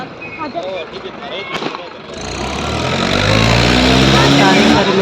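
A tractor engine runs, starting faint behind overlapping voices, then swells into a loud, steady low rumble that dominates the second half as people keep talking.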